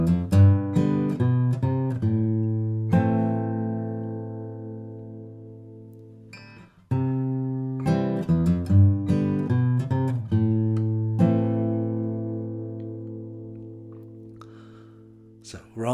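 A fingerstyle acoustic guitar plays a song's chord progression, plucked notes and ringing chords in a steady, unhurried pattern with long decays, close and clear, no one speaking.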